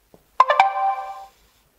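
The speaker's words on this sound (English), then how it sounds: "You see my phone on notification come up, almost like someone is ringing my phone." Arlo Essential wire-free video doorbell (AVD2001) alert ringing on a phone: a short, clear chime of three quick tonal strikes followed by a sustained ringing tone that fades after about a second, alone in a quiet room.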